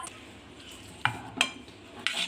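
Masala being stirred in a cooking pan for a chicken and mutton dish: a soft, quiet background with three brief, sharp scrapes and clinks of the spoon against the pan, close by.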